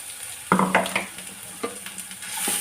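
Ginger-garlic paste sautés in hot oil for veg momos, with a steady sizzle broken by a few sharp stirring scrapes of a spoon in the pan, close and fairly loud, with no voices.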